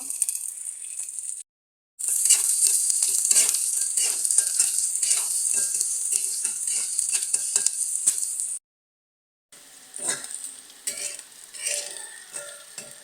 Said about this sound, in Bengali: পেঁয়াজ মরিচ ভাজা নেব তেল দিয়ে দিলাম